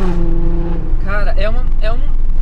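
Audi A7 3.0 V6 turbo fitted with an Armytrix Valvetronic exhaust and APR remap, a loud engine and exhaust roar that climbs in pitch through a few rising sweeps as the car accelerates, with talk over it.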